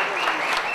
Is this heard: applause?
yes